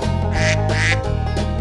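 A duck gives two loud, nasal quacks in a children's farm-animal stacking game, set over cheerful looping background music.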